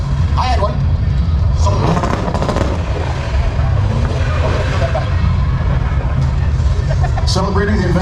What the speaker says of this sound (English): Celebrating the invention of the rev limiter,